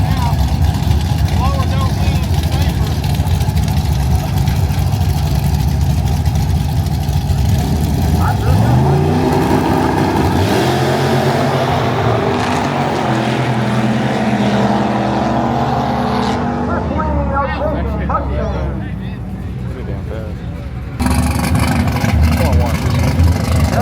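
A Chevrolet Silverado pickup truck driving, a loud continuous engine drone with rising and shifting tones as it accelerates, heard from inside the cab with voices talking over it.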